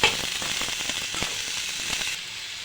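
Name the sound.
stirring radish fry with salt and chili in pan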